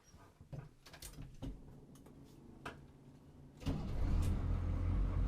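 A 1982 GMC Suburban with a 6.2-liter diesel engine and NV4500 gearbox gives scattered mechanical clicks and brief cranking, then catches and settles into a loud, steady, close low diesel rumble for the final stretch, with no voices.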